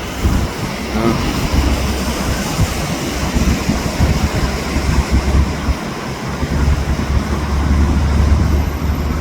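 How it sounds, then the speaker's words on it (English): Road traffic rumbles past outdoors near a SkyTrain line at dusk, with a steady low roar of passing vehicles that swells and fades without a break. "Oh, that's traffic"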